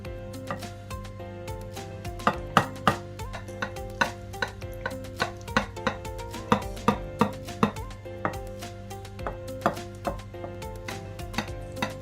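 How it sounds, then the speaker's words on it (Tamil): Knife cutting through baked homemade tuna lasagna in a dish, a series of crisp irregular taps and scrapes against the pan, close and clear over a low steady hum with no talk. "இப்போ நாங்கள் இதை கட் பண்ணுவோம்"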